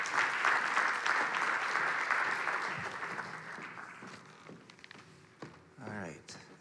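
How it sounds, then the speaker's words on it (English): Audience applause at a conference morning session, a dense crowd clapping steadily for several seconds and then tapering off, followed by a few thumps and a brief voice near the end. "Ashton, good hand of applause for Ashton."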